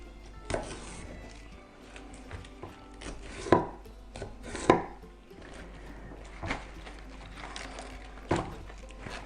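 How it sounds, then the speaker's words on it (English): A knife slices lengthwise through silverbeet (Swiss chard) stems on a board, with a few distinct sharp cuts and thunks spaced irregularly over quiet kitchen background. "And how I do that is to cut the stem"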